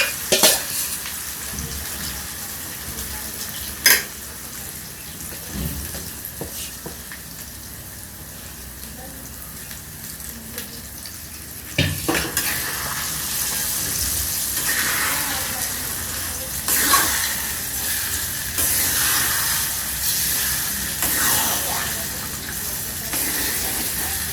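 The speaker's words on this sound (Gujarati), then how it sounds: "હવે હાંડવાનું બેટર રેડી કરેલું છે, એને વઘારમાં" Handvo batter poured into hot tempering oil with asafoetida, hissing and sizzling loudly in bursts, with stirring clatter and scrapes of a utensil in a home kitchen, and occasional faint voices in the background.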